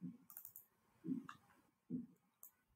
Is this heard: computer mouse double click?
yes